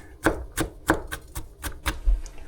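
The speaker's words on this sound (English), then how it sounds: "All right, we have our onions nice and diced up." A knife dices onions on a cutting board with seven crisp, evenly spaced chops, each a sharp, close tap.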